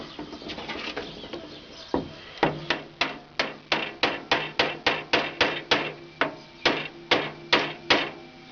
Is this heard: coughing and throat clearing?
no